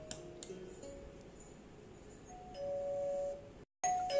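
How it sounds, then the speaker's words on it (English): Doorbell chime from an ACTOP T1 GRMS room control panel, a clear electronic ding tone sounding twice near the close after quiet background and a few soft clicks. "For doorbell, we can press doorbell."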